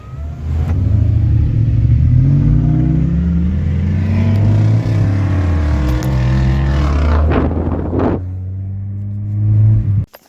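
A Toyota 4.7-litre V8 with a full 3-inch straight-pipe exhaust revs hard and loud outdoors, its engine note climbing and falling through several sustained pulls before dropping off sharply at the end.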